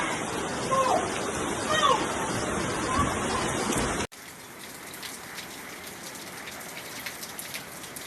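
Heavy rain pours during flooding in Jamaica, a dense hissing roar of water on surfaces for the first half, then cutting to a softer, steadier patter; voices briefly intrude.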